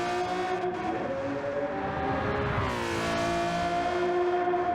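A race car engine in Gran Turismo 7 roars steadily at high revs as it crosses the finish line, with a sustained tonal whine and a pitch sweep partway through.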